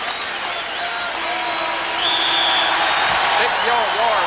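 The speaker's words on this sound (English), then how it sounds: "Big roar from the crowd at Hilton Coliseum." Arena crowd at Hilton Coliseum roaring during a college wrestling match, a sustained broad wash of cheering and applause that swells louder midway, with a commentator's voice talking over it.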